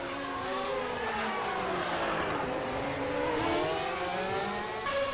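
Formula 1 race cars in a 1991 San Marino Grand Prix video game race, including a Honda-powered McLaren, with high-pitched engines whining together and rising and falling steadily throughout, close and loud.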